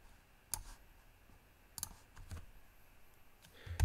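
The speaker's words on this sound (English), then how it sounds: "So I'm gonna type another word." Typing on a computer keyboard while designing a logo in Adobe Illustrator: a few sparse, sharp key clicks spaced apart over low steady background hiss, close and fairly quiet, with no talking.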